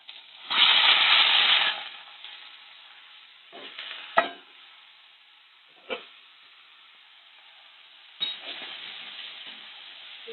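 Eggplant drops into a pan of frying potatoes and mustard seeds, setting off a loud hissing sizzle that fades, followed by a few sharp stirring scrapes and brief renewed spits.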